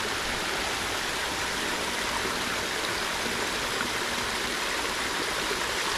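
Water pours steadily into a wide fish pond, a continuous broadband rushing like a stream or small waterfall, close and even throughout with no voices.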